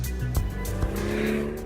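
A Mercedes-AMG car spins its tyres in a drag race setting, with squealing rubber over a steady engine roar and two sharp thumps, close and continuous for under two seconds.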